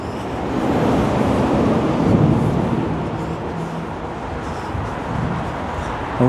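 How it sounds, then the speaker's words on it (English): Cars and lorries cross the expansion joints of the M62 motorway overhead, heard from the subway below as a loud, steady reverberant rumble with dull thumps rising and falling. "You can hear all the bangs, where all the joins are. Cars and lorries going over them."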